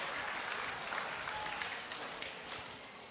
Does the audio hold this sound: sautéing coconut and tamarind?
no